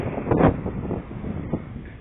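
Cold wind buffets the microphone on the Beira-Mar seafront of São José, Santa Catarina, a steady low roaring rush with a couple of stronger gusts and no talk.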